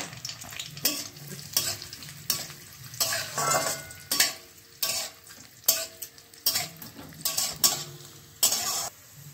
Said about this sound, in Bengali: তারপরে আমি কাজু এবং কিশমিশটা দিয়ে ভেজে নেব হালকা